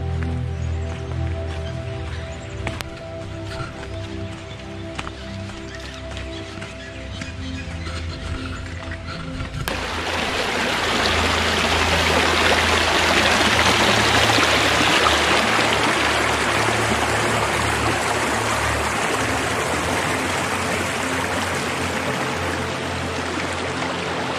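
Mountain river stream flowing on a trek route, a steady broadband rush that swells louder after the first ten seconds and holds continuously, with no talk.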